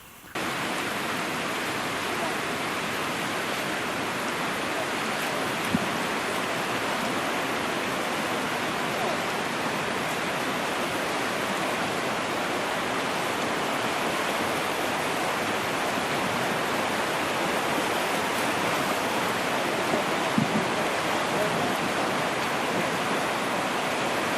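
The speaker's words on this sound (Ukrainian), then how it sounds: "На дворі дощ паде, а ви хочете попливати. І ріка отака." A constant loud rush of flowing water, like a swollen river, mixed with steady rainfall, unbroken throughout with no voices.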